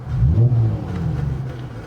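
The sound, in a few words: revving 2019 Dodge Charger 3.6 with Solo Performance Mach XV exhaust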